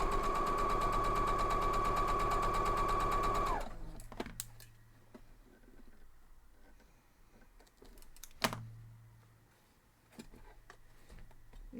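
A sewing machine stitches a strawberry patch quilt block in one steady, fast whirring run of about three and a half seconds, close and loud. Quieter handling clicks and a sharp tap follow.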